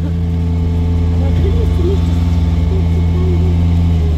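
A Mercedes W220 S500 V8 engine runs steadily at idle, a deep constant hum with low rumbling tones, close by, with brief voices murmuring over it.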